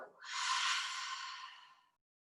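A single deep, slow exhale during a hip-focused stretching practice, soft breathy air rising then fading gradually over about two seconds, close to the microphone and alone.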